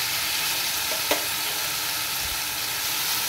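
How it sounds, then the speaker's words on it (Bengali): Chicken pieces frying in a pan barbecue style, a dense, steady sizzle close up with one brief utensil tap, no voices. "বারবিকিউর মতো আমি এগুলো একটু ফ্রাই করে নেব।"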